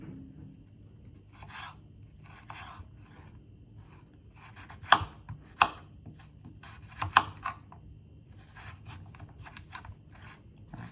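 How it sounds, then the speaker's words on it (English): A knife cuts vegetables into julienne strips for a stir fry, faint repeated cutting strokes with a few sharper knocks on the board. "Down, and again cut into julienne."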